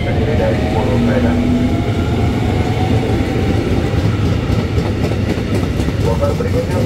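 A KRL commuter line train pulls into the upper level of Manggarai station, a steady loud rumble of rail noise and clatter filling the platform, with voices nearby.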